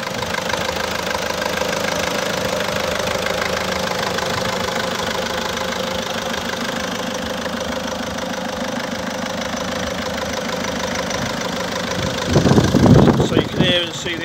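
An old diesel car engine idles with a steady, knocking rumble close by, briefly louder and rougher near the end.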